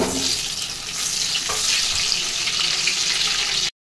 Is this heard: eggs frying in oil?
yes